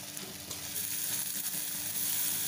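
Shredded cabbage and beaten egg sizzle steadily in a hot oiled pan while being stirred, a continuous close frying hiss with faint scraping and no talk.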